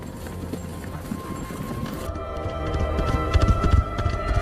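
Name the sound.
horse galloping out of a forest, from a film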